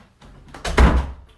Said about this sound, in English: I'm going to close the door because the dogs are absolutely going off.